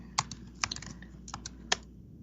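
Several crisp keyboard key presses, clicking irregularly at close range with a few sharper taps standing out, over a quiet background hum.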